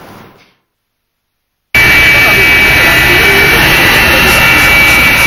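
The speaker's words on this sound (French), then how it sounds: "L'avion présidentiel s'est posé cet après-midi à 18h à l'aéroport Félix Houphouët-Boigny" The presidential airplane's jet engines at Félix Houphouët-Boigny airport give a loud, continuous roar with a high whine that starts abruptly after a brief silence and holds steady.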